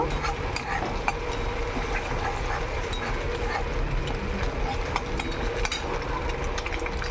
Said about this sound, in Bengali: এর মধ্যে একটা ডিম ভালো করে আরেকটু ভেজে নেব